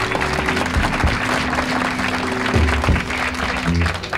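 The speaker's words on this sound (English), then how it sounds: "Let's have a really mellow round of applause for Mr." An audience applauds the bass player at a 1975 live radio birthday concert, a dense, steady patter of clapping from a sizable crowd, with a low sustained instrument tone humming underneath.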